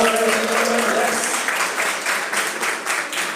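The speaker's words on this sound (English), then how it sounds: "Can we please give her a big round of applause?" An audience at a tech panel discussion applauds a panelist. The clapping swells into a dense, steady patter, with a speaking voice over the start.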